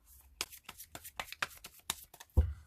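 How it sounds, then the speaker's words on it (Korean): Tarot cards being shuffled and drawn, a quick run of soft riffling flicks and slaps close by, ending in a heavier thump, with no talk. "추가 카드 한번 뽑아보겠습니다"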